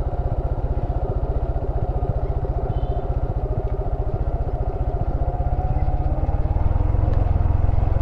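A motorbike engine rumbles steadily as the bike descends a steep, winding hill road in Bandarban, a low continuous drone with a rhythmic throb that swells slightly louder toward the end, with no talking.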